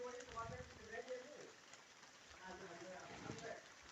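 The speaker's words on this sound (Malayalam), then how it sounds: "മഴ ചെറുതായിട്ട് തുടുക്കി തുടങ്ങുന്നുണ്ട്" Light rain begins to fall outdoors, a faint, soft patter that stays even and low for the whole short stretch.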